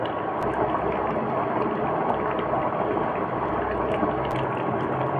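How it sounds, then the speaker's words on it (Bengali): A pot of chickpea curry boils hard on the stove, giving a loud, steady, dense bubbling and hissing that runs unbroken from start to finish with no voices. "ভালো করে ফুটিয়ে জলটাকে আমি কমিয়ে নেব"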